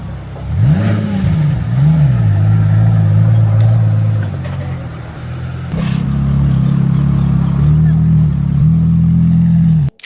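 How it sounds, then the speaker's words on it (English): Supercars on the streets of Monte Carlo, Monaco, passing close by one after another, their engines rising and falling in pitch as they rev and cruise past, loud and near, with the deep tone ending abruptly. "the deep resonant hum of supercars rolling past like moving pieces of art"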